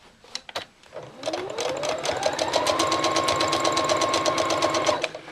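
A sewing machine stitches along the rocker section of a fabric rocking horse, running steadily at close range for several seconds after a few brief starts.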